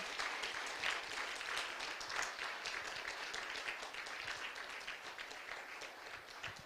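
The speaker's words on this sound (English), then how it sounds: "Let's give a big round of applause to them." An audience at a Bhagavad Gita summit Sunday gathering gives a sustained round of applause, a dense, steady roar of many hands clapping, soft and distant throughout.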